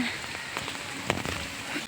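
A brief stretch of rain at an outdoor nature park, a constant broadband patter with a few distinct nearby drips.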